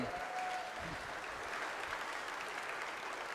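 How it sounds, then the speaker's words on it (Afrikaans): An audience claps steadily through a church service marking a confirmation, a dense, even wash of applause with no voices over it from start to finish. "Julle kan maar hande klap en dit vra baie guts."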